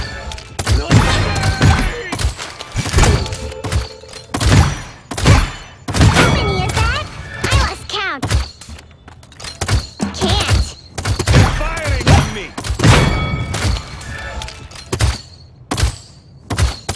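Rapid gunfire in the Paladins video game, with dense bursts of shots and impacts packed closely together, loud and nearly continuous, mixed with game announcer voices.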